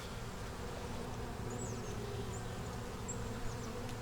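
Honey bees buzzing around a small nuc hive with a yellow-marked queen, a soft continuous drone with individual bees whining past now and then, faint and steady with no talking.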